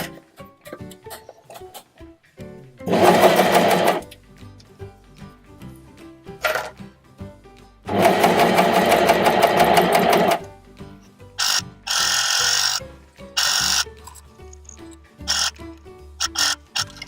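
A coverstitch machine sews the neckline of a dress in several loud bursts of fast whirring stitching lasting a couple of seconds each, separated by pauses with small clicks and handling noises.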